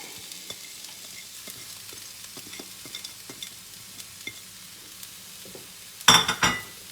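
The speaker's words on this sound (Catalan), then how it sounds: "Començarem a sofregir les nostres verdures. La primera que posarem serà la ceba," Onion frying in olive oil in a pan, a faint steady sizzle with light stirring clicks, then a brief louder burst of sizzling near the end.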